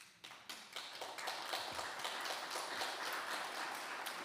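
Audience applause at a city State of the City address fills the room with a steady wash of clapping, starting from a few sharp claps and swelling to sustained, moderately distant applause.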